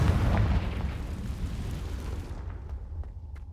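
A Confringo explosion spell cast in the video game Hogwarts Legacy, one loud, deep blast that rumbles and slowly fades over a few seconds, with no talking.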